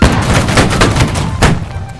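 Massed musket volley in the Holdfast line-battle game, a rapid ragged crackle of many shots layered over two seconds, with sharper bursts near the start and around the middle, loud and close with faint shouting underneath.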